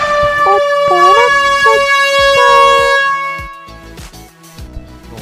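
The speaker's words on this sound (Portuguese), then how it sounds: "pode soar a buzina que esse episódio já está começando." A loud horn blares at close range, its wavering tone sliding up and down in several blasts before a burst of clattering noise.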